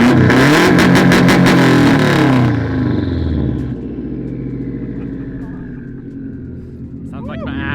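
A loud car engine, in a setting involving a Scion FR-S and a Civic Si, revs hard and close, then drops to a lower rumbling idle, with people talking over it near the end.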